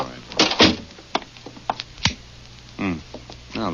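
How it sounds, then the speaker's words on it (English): In an old 1940s radio mystery, a door thuds shut among scattered knocks and handling noises. Voices speak briefly around it, and the sound is close and somewhat muffled. "Well, close the door."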